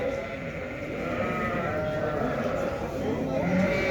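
Lambs bleat on and off among a flock at the Şarkışla livestock market in Turkey, mixed with voices talking nearby over a busy outdoor background.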